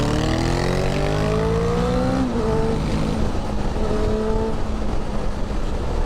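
A 2021 Honda CB1000R Black Edition motorcycle engine in sport mode revs loud and close, its pitch climbing steadily, then dropping back and rising again under a constant rush of wind.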